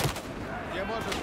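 Machine gun fire in the video game Battlefield 4 comes as a short, fairly faint burst mixed with game ambience.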